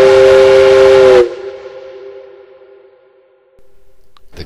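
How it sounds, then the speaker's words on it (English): A loud, steady steam train whistle blows for about a second, then cuts off and leaves a ringing tail that fades away. "It was a loud whistle."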